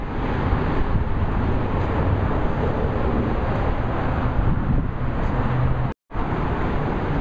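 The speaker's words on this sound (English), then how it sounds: "As you can hear, we're going underneath the freeway." Steady, loud roar of freeway traffic passing overhead while walking in the underpass beneath it on the San Elijo Trail, a continuous broadband rumble with a brief dropout near the end.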